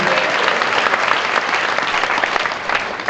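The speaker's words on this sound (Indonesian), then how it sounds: "Tepuk tangan dulu dong dari teknik mesin" Dense, steady applause from an audience at a live stage comedy event, continuous and fairly loud throughout with no pauses.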